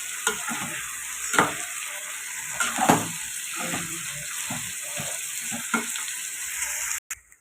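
Raw banana pieces frying with salt in a pan, a steady loud sizzle broken by repeated scraping stir strokes, ending abruptly.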